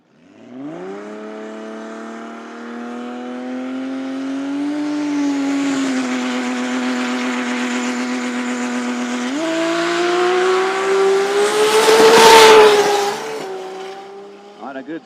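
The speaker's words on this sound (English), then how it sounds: "Supra slowly approaches the beams. Let's spool that turbo up." A Toyota Supra drag car sits at the start line of a no-prep drag strip at Toronto Motorsports Park, its engine holding loud and steady while the turbo spools, rising in pitch with a harsh burst near the end.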